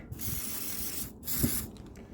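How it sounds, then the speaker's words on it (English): Two bursts of aerosol grease spray hiss onto the rear brakes of a Chrysler 300C, the first longer and steady, the second shorter, both close and alone with quiet gaps around them. "give these a little bit of a grease up"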